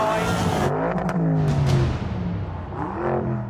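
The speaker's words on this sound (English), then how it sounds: "he's revving the absolute nuts off it" Lamborghini Urus with its exhaust valve open, revved hard while still cold: repeated loud engine surges climb and fall with a raspy exhaust roar, close and dominant, with no voices over it.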